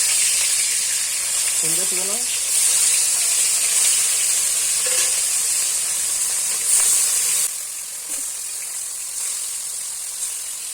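Fish fries in hot oil in a home kitchen, a loud continuous hiss and sizzle with bursts of spattering that ease slightly near the end, a voice faintly in the background.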